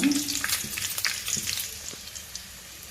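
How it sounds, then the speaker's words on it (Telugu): Green chillies frying in oil in a pan for a Telugu tamarind and onion chutney give a steady crackling sizzle with a few sharper pops and stirring clatters, close and fairly loud, no talk. "మిరపకాయలు ఇలా కొంచెం ఒక ఒక్క నిమిషం పాటు ఇలా వేగిన తర్వాత దీనిలో మనం"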